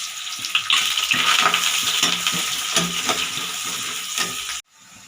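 Onion sizzles and crackles in hot oil with fennel seeds in a pan, a busy close frying hiss with light stirring scrapes, cutting off abruptly near the end.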